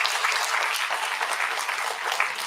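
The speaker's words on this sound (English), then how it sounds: "Round of applause for that gentleman." An audience claps steadily for a gentleman during a human values induction program, a dense, sustained round of applause at moderate loudness with no speech over it.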